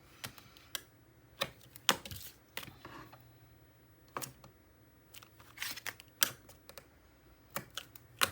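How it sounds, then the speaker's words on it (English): Adhesive tape being pressed and smoothed down onto a page of a Stamperia Fortune mini album, heard as a string of short, close crackling clicks and rustles with quiet gaps between them. "Now I'll put the tape down on this side."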